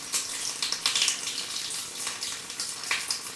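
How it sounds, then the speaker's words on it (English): Water splashing inside an underground sewer pipe about ten feet deep during a camera scope inspection under a sidewalk, a faint irregular series of small wet splashes and trickles, hollow and distant. "No, that was just a splash, no concern there."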